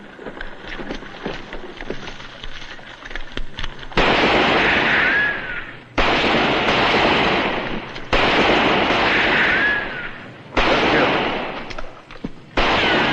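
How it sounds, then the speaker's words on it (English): Rifle gunfire in a western TV episode: loud bursts of repeated shots come in several separate volleys with short pauses between them, with a ricochet-like whine in a couple of bursts. "All right, start shooting."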